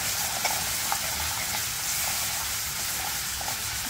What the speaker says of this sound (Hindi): अब इसमें लहसुन का पेस्ट डालेंगे